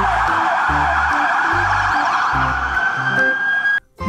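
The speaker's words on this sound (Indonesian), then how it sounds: "Wadidaw, di sini ada mobil patroli polisi" Toy police patrol car siren wailing loud and steady with a repeating electronic tone pattern for about four seconds, then stopping abruptly.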